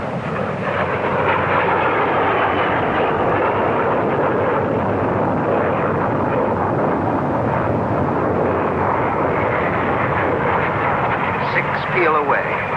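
A large formation of 22 Hawker Hunter jets from 111 Squadron loops at a 1950s Farnborough air display, a loud, steady broadband roar of jet engines that never lets up, with a commentator's voice running over it.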